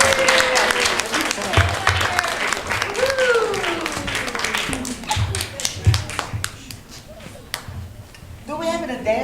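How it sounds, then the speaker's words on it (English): Audience applause at a Rainbow Rumpus community event, scattered claps and taps running through the whole stretch with voices and speech mixed in throughout. "Let's give them a big round of applause."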